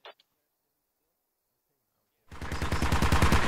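BTR armored vehicle machine gun fire in the Squad military game, a rapid loud burst of rounds kicking in after a brief click and a long silence.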